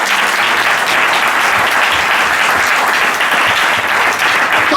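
A church congregation applauds, a dense, loud, continuous wash of many hands clapping that fills the whole moment without a pause.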